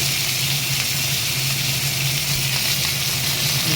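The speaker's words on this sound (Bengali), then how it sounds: "কালো জিরে ফোড়ন দিয়ে দিয়েছি" Black cumin seeds sizzle in hot oil as a loud, dense, steady hiss and crackle, close up and unbroken, with a low hum underneath.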